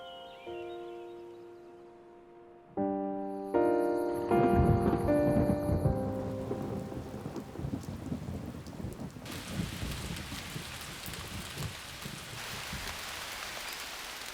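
A September rainstorm with steady rain falling on surfaces and a loud thunder rumble rolling in. Music plays at first, then fades under the storm.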